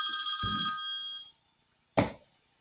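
A telephone rings with a bright electronic trill that lasts about a second and a half. After a short silence, a second brief burst of the ring follows. The sound is close and fairly loud, with no voices.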